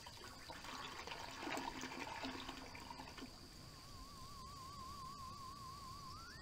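A toilet flushes in the Harvester video game, a rushing gush of water that settles into a trickling refill, fairly quiet and heard alone, with a warbling electronic tone creeping in near the end.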